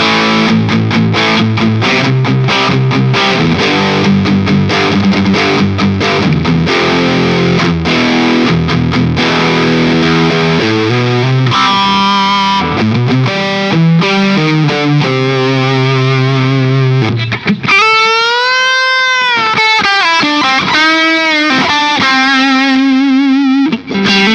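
Electric guitar on the bridge pickup, switch down, through a TC Electronic Dark Matter distortion pedal at full gain and raised volume, plays loud saturated chords and riffs, then sustained bent lead notes near the end, with no talking.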